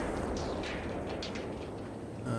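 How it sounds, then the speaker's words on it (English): An explosion destroying a boat in a 16v16 conquest video game match, a dense roaring blast and rumble filling the whole moment, with a fresh burst of noise at the end and no voices. "I don't see what caused that explosion, but it was fatal for the boat"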